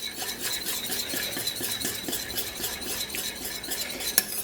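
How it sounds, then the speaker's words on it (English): A whisk beats milk into béchamel sauce in a pot, a steady, quick rhythmic scraping and swishing that repeats evenly throughout, with no talking. "And you want to whisk it all in. Add milk slowly."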